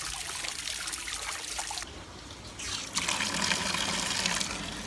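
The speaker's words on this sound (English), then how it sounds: "Now I will release all the water into our pool." Water drains from a leaking household tank into a pool, a steady gushing and trickling flow that dips briefly in the middle, then surges back louder, with no talk.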